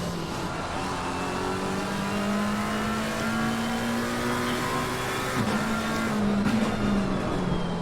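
Race car engines in Assetto Corsa Competizione at Suzuka drone steadily and loudly throughout, with rising revs and gear shifts, other cars audible around, no talk.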